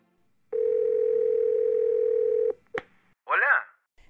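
A steady telephone dial tone hums for about two seconds when placing a call to a pastor, then cuts off with a sharp click, followed by a brief voice.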